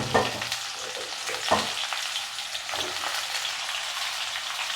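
Drumstick, pointed gourd and raw banana stirred in a frying pan, a close hiss of frying broken by several sharp scraping strokes of the spatula, with no voices.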